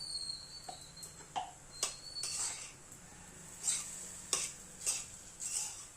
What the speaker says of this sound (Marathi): रवा भाजत आला की मी परत 2 चमचे तूप टाकून घेते